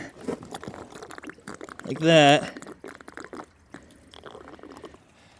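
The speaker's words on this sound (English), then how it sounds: "So I'm gonna try to pour this in to the top through the side here" Cheap degreaser solvent poured into the steering clutch housing of a John Deere 450B crawler makes a short, close glugging splash, surrounded by someone talking.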